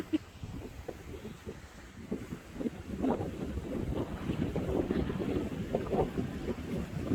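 A small fishing boat's engine rumbles steadily at sea over wind buffeting the microphone, with waves slapping against the hull throughout.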